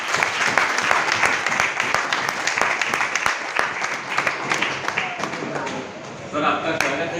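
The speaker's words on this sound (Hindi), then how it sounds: "डॉक्टर साहब के लिए एक बार जोरदार ताली।" A crowd at a village farmers' meeting claps and applauds for a visiting guest, a dense, steady burst lasting several seconds before fading, with some speech mixed in.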